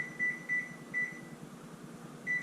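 Oven control panel set to bake at 405 degrees gives short high electronic beeps, four tones spaced irregularly over a low steady hum.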